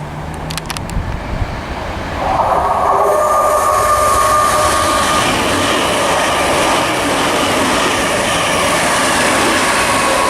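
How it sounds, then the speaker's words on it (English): A delayed ScotRail Class 365 electric train from Edinburgh to Glasgow Queen Street passes through Linlithgow station, a steady loud rumble and whine building after a couple of seconds and holding close by. "passing through now is a delayed ScotRail pass from Edinburgh to Glasgow Queen Street"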